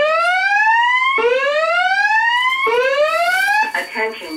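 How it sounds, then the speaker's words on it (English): A building fire alarm sounds its evacuation signal as loud, close, repeated rising whoop sweeps, three in a row, before breaking into shorter tones. "The signal you have just heard indicates a report of an emergency in this building"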